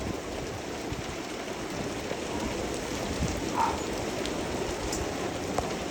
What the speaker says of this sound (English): it's literally chucking it down with hail right now. Pea-sized hail.